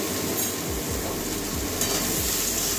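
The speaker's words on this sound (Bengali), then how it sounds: "কষিয়ে নেবো বেগুনের সঙ্গে মশলাগুলো" Brinjal frying with coriander and cumin powder in a pan, a constant sizzle with repeated rhythmic scraping strokes as it is stirred, close and clear.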